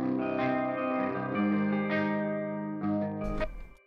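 Near-clean electric guitar through the ML Soundlab Amped Roots amp plugin with gain set almost to zero, ringing sustained chords and notes one after another, ending with a brighter strummed attack.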